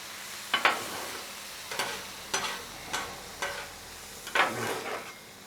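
On a Blackstone 36-inch griddle, taco meat sizzles softly while a spatula scrapes and drags it around. The strokes come in about five separate bursts, close and quiet, with no talking.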